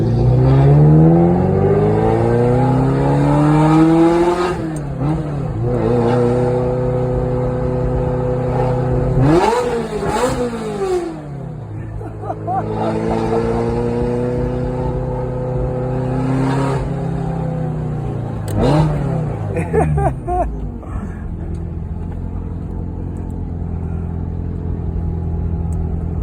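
A 1989 Ferrari 348ts engine, 36 years old, revs up again and again, with loud rising and falling whines, brief dips as the throttle lifts, and a steady idle rumble between the pulls.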